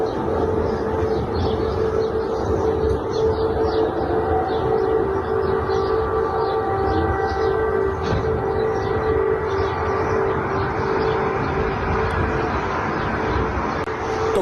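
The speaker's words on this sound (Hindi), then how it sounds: "रूस के हमले को लेकर कीव में सायरन बजा है" Air raid siren sounding over Kyiv during a Russian attack: a loud, sustained wailing tone that holds steady for the whole clip against open outdoor ambience.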